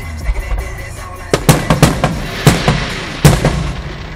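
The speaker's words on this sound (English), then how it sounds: "I want to get the sound of the fireworks." Fireworks at a 2012 display in Denville, a rapid series of sharp booming bursts, some in quick clusters, loud and fairly close with a rumbling tail between blasts.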